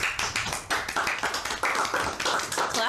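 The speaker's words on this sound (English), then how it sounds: "Clapping." Rapid, sharp claps repeat in an uneven burst, several hands together at close range, with no talking over them.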